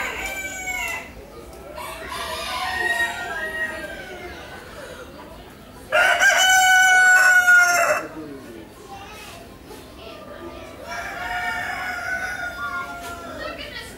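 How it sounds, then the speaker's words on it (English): A rooster at the Innisfail agricultural show crows loudly several times in clear bursts, with clucking poultry and distant crowd and children's voices around it. "I hope I get a rooster crowing in front of this."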